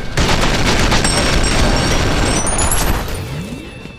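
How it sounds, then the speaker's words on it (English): Sustained automatic weapon fire in the shooter game F.E.A.R. Perseus Mandate, a dense loud continuous burst of rapid shots with booming low end, tapering off near the end. "This was a nice machine gun kill."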